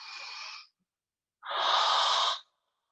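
Deep breaths during a yoga flow: a short exhale fades out, then after a pause a longer, strong, breathy inhale is drawn in, close and loud, with no talking.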